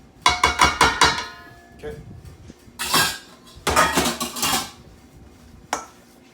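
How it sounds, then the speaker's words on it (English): Utensil scraping interior garnish off a board into lamb sausage mixture, a run of quick clattering strokes followed by heavier scrapes and knocks, close and clear with a brief spoken word. "Now we'll add our interior garnish here, which we'll scrape in."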